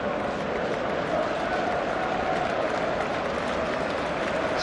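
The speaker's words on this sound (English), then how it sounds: "warm applause for David Silva" A stadium crowd applauds David Silva at a Premier League match between Manchester City and Sunderland, a steady, dense wash of clapping and crowd noise that holds for the whole stretch.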